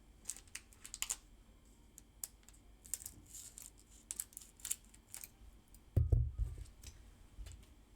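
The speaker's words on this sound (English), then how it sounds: "I'm gonna open it with the scissors." Scissors snip and crinkle through the foil wrapper of a Pokemon TCG booster pack, a run of small close clicks and crackles, quiet overall, ending in a louder rustling handling of the pack.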